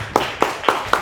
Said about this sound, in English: Clap it up to that, y'all.